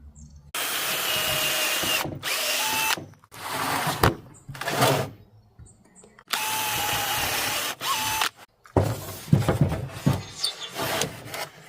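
A drill countersinking holes in a wooden bench seat: four loud, close whirring bursts, each lasting a second or two, broken by short silences, the later ones grinding and uneven as the bit bites into the wood.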